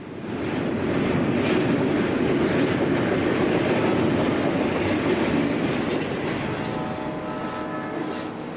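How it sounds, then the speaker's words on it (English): A long westbound Conrail manifest freight train rolling past at Oak Harbor, a loud continuous rumble and rattle of railcars with faint wheel squeal, steady and close for the whole stretch, no talking. "Another long westbound manifest is next, 28 minutes later."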